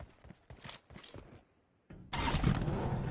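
Vehicle engine in the battle-royale game BGMI (PUBG) cranking into life: a few faint footstep-like taps, a short pause, then a loud engine roar that starts suddenly and keeps running steadily.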